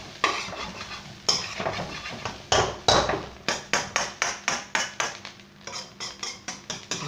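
A metal chef spoon clanks and scrapes against a pan and plate while cumin rice is scooped for plating, a steady run of sharp close strikes falling into a quick regular rhythm toward the end, with no talking.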